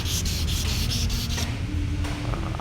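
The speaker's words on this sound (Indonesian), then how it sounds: "Ya, ini sekarang lanjut amplas 500." Wet sanding of a cracked bathtub repair with 500-grit sandpaper and soapy water, heard as close, steady back-and-forth rubbing strokes, loud and continuous with no talk.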